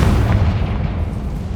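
A Confringo fire spell bursting in Hogwarts Legacy, a loud booming blast that rumbles and fades over about a second and a half.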